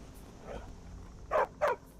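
A dog in the Skyrim video game gives two quick, close barks after a softer whimpering yip, over a quiet game background.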